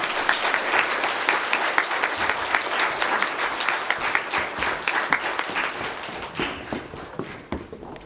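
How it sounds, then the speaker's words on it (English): Steady audience applause at a Grade 4 school prize-giving ceremony, a dense patter of many hands clapping that carries on for several seconds before thinning out near the end. "Can we give them a round of applause?"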